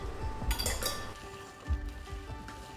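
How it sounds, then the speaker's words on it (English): Egg and a few teaspoons of milk whisked in a bowl for sweet pakora fritter batter, with close metallic clinks of the utensil against the bowl and a couple of soft knocks over faint kitchen background. "just a few teaspoons of milk and give that a little whisk"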